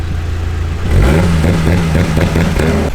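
A Volkswagen GTI's engine revs hard at launch, a steady mid-pitched roar that climbs in and holds for about two seconds, close and loud over the car's clattering whir.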